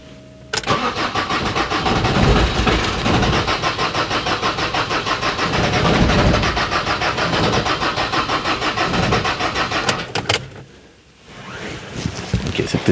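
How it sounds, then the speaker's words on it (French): An Alfa Romeo MiTo engine cranks and catches, then settles into a steady loud idle with a rumbling, broadband roar while smoke comes from it; it dips briefly near the end before picking back up. "Je démarre, puis on essaye de voir d'où vient cette fumée là."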